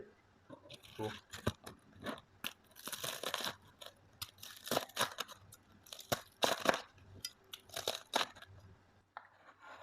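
Crispy fried chicken with a crunchy coating is pulled apart from the bone, giving sharp, close crackles and crunches in irregular bursts, with talking heard between them.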